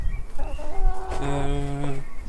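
A hen gives a drawn-out, rising clucking call close by, with softer clucks and farmyard murmur around it.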